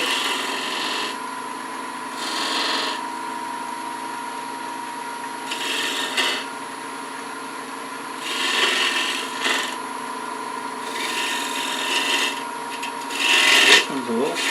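A detail spindle gouge shaves beads on a pillar candlestick spinning on a wood lathe, giving repeated short bursts of close, raspy cutting over the lathe's steady hum, with pauses between each pass.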